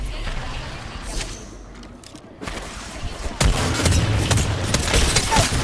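Wingman pistol fire in Apex Legends during a team fight, with sharp gunshots and rapid volleys mixed into a loud, dense game soundscape of explosions and action, continuing without pause.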